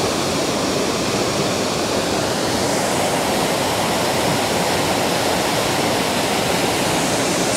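The Todtnau waterfall in southern Germany roars in a steady, loud, unbroken rush of falling water that fills the whole stretch, with no voices.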